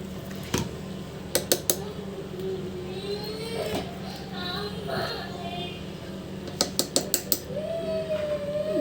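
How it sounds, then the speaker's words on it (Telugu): A spoon clinks against a pot or plate while ghee is added to cooked rice for egg biryani. Two quick clusters of sharp metallic taps sit over a steady low kitchen hum, with a faint wavering tone in between. "చూడండి దీనిపైన ఒక స్పూన్ వచ్చేసి గీ వేసుకుంటున్నాను."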